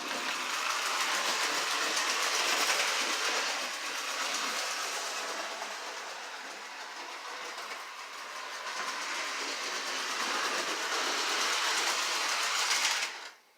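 A Lionel 8500 model train engine with a front truck runs around a home layout, giving a steady close rolling whir and rattle of wheels on track that holds for the whole stretch before cutting off at the end.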